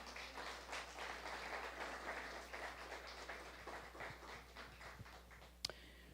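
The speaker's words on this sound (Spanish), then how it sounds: "¿Cuánto le pueden dar un aplauso al Señor Jesús?" A church congregation applauds Jesus during a service, faint steady clapping from a distance with a few sharper knocks near the end.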